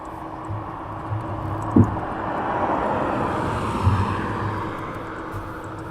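A DHL cargo jet on night approach to East Midlands Airport, heard as a distant, broad engine rumble that swells gently and stays far off, with a couple of faint nearby knocks.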